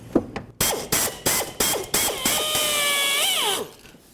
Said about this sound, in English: We have a rivet, so I'm going to go ahead and drill that out.